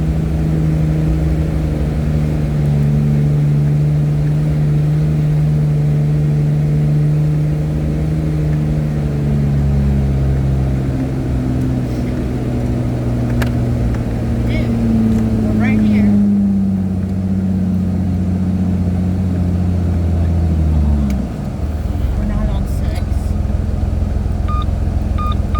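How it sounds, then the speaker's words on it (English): A Jeep engine labors off-road in first gear, a loud, low drone rising and falling in pitch with revs, while a person talks over it. "My Jeep probably should have been in second, but I didn't want to run out of power and get the tires slipping"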